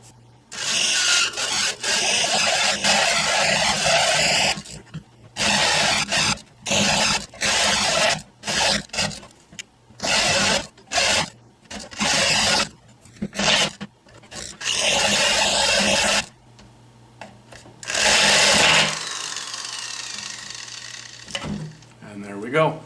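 A homemade router cuts a 1-inch viewing hole in a bowling ball, heard as loud, close, abrasive bursts of grinding that start and stop repeatedly, with short pauses and a longer run near the end.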